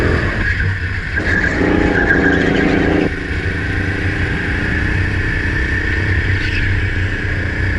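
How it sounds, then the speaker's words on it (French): Racing karts in qualifying at a track, with one kart spinning out: a loud, steady engine drone with a brief rougher burst of tyre skid early on, heard close throughout. "Joli tête à queue."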